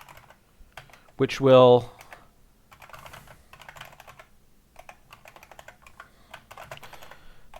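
Rapid keyboard typing while C++ code is written: steady, close clicks and key taps run throughout, with a short burst of a man's speech near the start.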